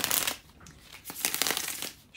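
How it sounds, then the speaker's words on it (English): Tarot cards are shuffled close up in soft, papery bursts of riffling and sliding, two or three quick rounds with brief pauses between, fairly quiet and without talk. "shuffle the cards and we're going to jump right into it."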